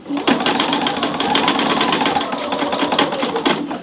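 A sewing machine stitches slowly through a very thick layer of shacket fabric at the collar, sending out a steady loud run of rapid mechanical needle strokes that ends abruptly.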